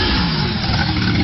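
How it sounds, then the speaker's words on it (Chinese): A motorcycle engine revs hard and steadily, loud and close, with a thick continuous roar and no pauses; the bike is ridden by a drunk man while strapped by ropes to a lifting frame as a swing, in the Netherlands. "骑摩托车荡秋千"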